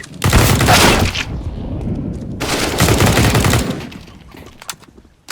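Rapid automatic gunfire in the shooter game Counter-Strike: Global Offensive, loud and close, in two long sustained bursts with a short lull between them, then a few scattered lighter shots.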